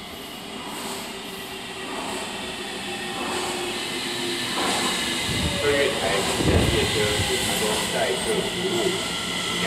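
Two Taipei Metro C321 trains with upgraded electrics pass at Far Eastern Hospital station, a rumbling, hissing roar that builds and swells as they enter and leave the platform, with a high electric whine running through.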